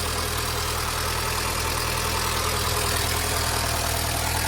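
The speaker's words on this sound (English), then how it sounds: "See, the engine's working good." A 2007 Audi A3 engine idles after repair work, a steady, close, fairly loud running hum with an even low-pitched pulse and no voices over it.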